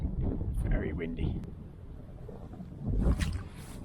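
Gusty wind buffets the microphone beside a grayling stream while fishing, producing low rumbling surges that rise, ease off and return, with a voice speaking in between.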